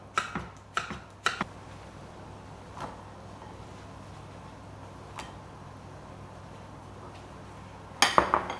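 A knife cuts water spinach and Vietnamese zucchini into pieces the size of pasta. A few sharp taps come in a quick cluster at the start, then a long quiet stretch with one or two lone clicks, and a final burst of chopping taps.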